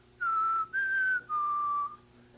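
A live audience whistles back in three separate sustained notes, each steady and clear with short gaps between, fairly loud over a quiet hall with no talking.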